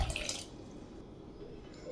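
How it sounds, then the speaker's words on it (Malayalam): Water pours into a pressure cooker holding about 150 grams of kidney beans, making a soft, brief splashing trickle that stays quiet and close, with no talking. "നമുക്കത് വേകാൻ ആവശ്യത്തിനുള്ള വെള്ളം ഒഴിച്ചു കൊടുക്കാം"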